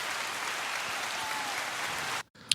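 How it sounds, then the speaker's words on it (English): A studio audience claps on a podcast, a steady even wash of applause that cuts off abruptly near the end, followed by a brief sharp sound. "Let's give him a round of applause."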